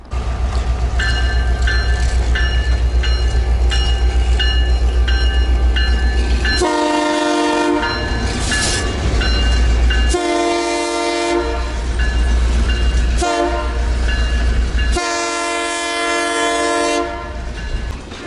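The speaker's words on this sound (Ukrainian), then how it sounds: "канадський потяг зараз покажу. Якось він так повільно їде" A Canadian train rolls past slowly and close by, with a steady rumble and clatter of wagons broken by several long, loud horn blasts.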